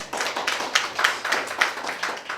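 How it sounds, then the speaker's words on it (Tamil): A small audience at a Tamil astrology talk claps for a correct answer: a brief burst of quick, uneven hand claps lasting a couple of seconds, fairly close and moderately loud. "அவருக்கு ஒரு கைத்தட்டலை போடுங்க"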